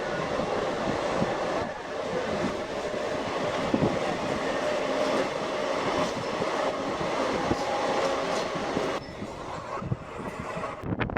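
A DEMU train on the Hindupuram–Guntakal line rumbles steadily along the rails, wheels clattering in a continuous loud roar that eases slightly near the end as it reaches Thimmanacherla station.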